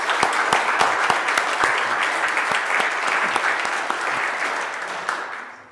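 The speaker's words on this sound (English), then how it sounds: "Let's give Linda a round of applause" An audience at an annual meeting gives a round of applause, with many sharp, distinct claps over a dense wash of hands, loud and close at first before tapering off near the end.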